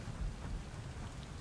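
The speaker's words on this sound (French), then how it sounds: "Oh, mais il pleut, dit, dans ce désert." Steady rain with low rumbling thunder in a desert area of the factory-building game Satisfactory, a continuous hiss of falling drops over a deep, rolling low end, with no voices.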